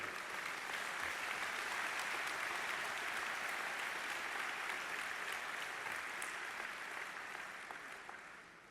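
Large political party rally crowd in Singapore cheering and clapping together, a dense, steady roar of applause and voices that holds loud for most of the stretch and fades slightly near the end.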